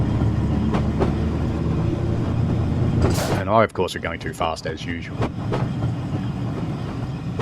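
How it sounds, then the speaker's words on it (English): An old train with DC traction motors growls deep and continuous in a train simulator game on the Woodhead route, with rail clatter and someone talking over it midway. "I do like the sound of an old DC traction motor though. It's a nice deep growl."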